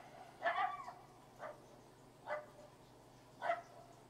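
A coydog gives four short, sharp yaps spaced about a second apart outdoors, faint and distant, with no talk over them.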